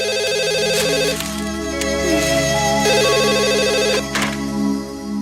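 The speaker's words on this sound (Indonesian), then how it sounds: "Itu mungkin telepon dari Mas Handi." A telephone rings steadily with a bright repeating electronic tone, loud and close, in an indoor domestic drama scene, with faint music or background hum under it and no talking.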